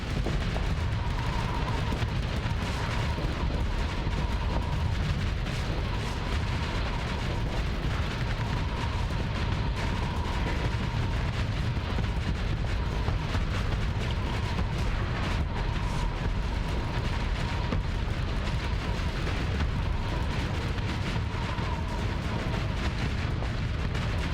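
A ship in the space game Starsector unleashes a relentless barrage of missiles, a dense, continuous rumble of launches and blasts rolling on without pause for over twenty seconds.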